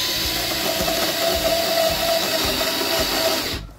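An INGCO 8V portable cordless drill runs in forward mode at torque setting 1, drilling in quickly. A steady, close whirring motor with faint rhythmic grinding continues throughout, then stops abruptly just before the end.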